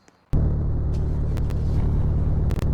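A sports car with a big V8 engine starts up in a driving video game and settles into a loud, steady, deep idle rumble, with a few sharp clicks over it.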